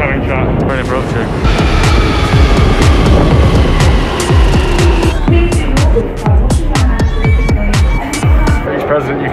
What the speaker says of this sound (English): Train coming, chat.